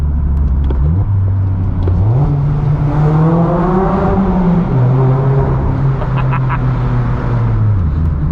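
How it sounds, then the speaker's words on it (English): A Mazda Miata engine revs and drops through downshifts inside a tunnel, the pitch stepping up and down in several blips with echoing, loud exhaust tone throughout, close and continuous. "I got to downshift in the tunnel."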